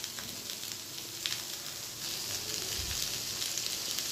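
Sliced ridge gourd frying in a pan while it is stirred, giving a steady close hiss of sizzling oil with a few soft scrapes, growing slightly louder partway through.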